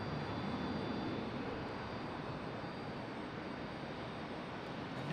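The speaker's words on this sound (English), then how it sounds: "Got a Delta landing over here on the east side of the airport." A Delta airliner landing at Charlotte Douglas airport produces a steady, distant, broad jet roar that holds at an even level for several seconds, with no voices.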